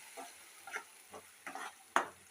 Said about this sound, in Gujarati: ચોપરમાં ચોપ કરેલી ડુંગળી ઉમેરી દઈશું અને થોડી આપણે સાતળવાની છે